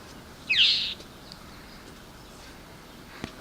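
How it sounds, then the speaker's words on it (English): An unfamiliar bird near a hot greenhouse with tall tomato plants gives a single sharp, high call, brief and fairly close, followed by quiet background hiss and a faint tick. "Anybody know what kind of bird makes that kind of a sound?"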